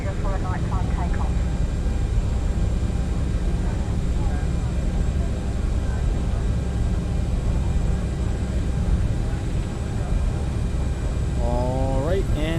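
Aerosoft CRJ-900 jet engines spooling toward takeoff power in Microsoft Flight Simulator, a loud continuous roar and whine, with someone talking briefly over it near the start and the end.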